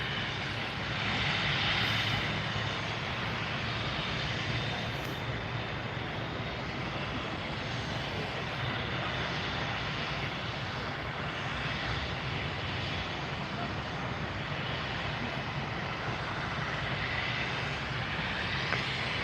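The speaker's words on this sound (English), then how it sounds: "See if it taxis up for a north side or a south side departure." A heavy Boeing 747 cargo aircraft taxiing at Miami International Airport at night, its engines giving a steady, loud, broadband roar that holds unchanged throughout with no talking.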